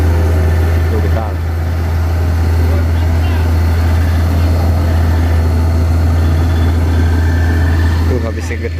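A road-repair machine such as a motor grader or backhoe idles with a steady low diesel rumble and vibration, loud and constant throughout, with faint voices behind it.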